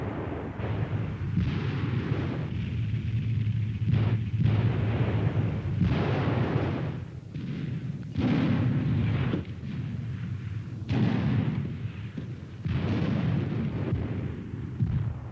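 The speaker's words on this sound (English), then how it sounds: "The effect of the Panzerschreck is clearly seen here, the backblast being quite pronounced." Panzerschreck anti-tank rocket launchers firing in WW2 footage: a run of heavy, booming blasts that follow one another closely, loud and rumbling, with no voices over them.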